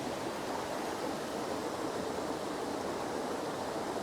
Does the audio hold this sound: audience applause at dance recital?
no